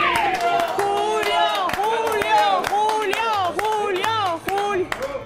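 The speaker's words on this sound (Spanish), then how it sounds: "por favor, unos aplausos" Studio audience on a Spanish television show clapping in a quick rhythm, with sharp, close hand claps under loud, continuous voices and chatter.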